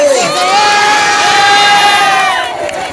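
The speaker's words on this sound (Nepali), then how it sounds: "अझै एकचोटि जोरदार तालीको हल्लासँगै" An audience at a live stage event cheers and whoops loudly for a singer after her performance, a dense, continuous burst of crowd noise with high shouts riding on top.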